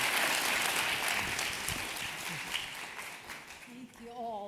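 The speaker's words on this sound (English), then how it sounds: "Would you please give a great round of applause to Dr. Gail Christopher, Dr. Alonzo Paul, and Dr. David Geiger." Dense audience applause for panel speakers at a climate leadership summit, steady and close, thinning out near the end as a voice begins speaking over the last moments.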